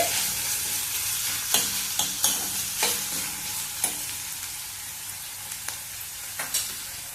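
Onion frying in a pan for pumpkin curry gives a continuous sizzle, with repeated spatula scrapes and taps at irregular intervals, heard up close with no voices.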